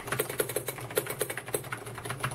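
Ajazz AK510 mechanical keyboard with brown switches being typed on, a quick uneven run of close, crisp clacking keystrokes, moderately loud and alone without talk.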